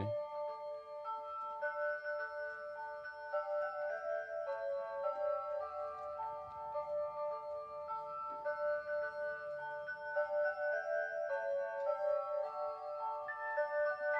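Seiko QXM381BRH musical clock playing a bright chiming melody, clear bell-like tones stepping through a tune at moderate volume with no talk.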